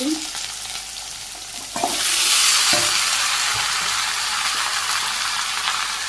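Cumin seeds, fenugreek and green chilies hit hot oil in a pan with a soft crackle that swells into a loud, steady sizzle, with occasional clinks of a utensil.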